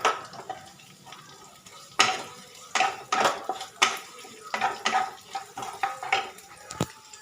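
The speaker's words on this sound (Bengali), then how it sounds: "এবার আমি মধ্যে দিয়ে দিচ্ছি একটা মিডিয়াম সাইজের পেঁয়াজ কোচানো।" Chopped onion hits a pan of frying garlic, followed by clattering scrapes and knocks of a spatula stirring against the metal, over a soft sizzle in the background.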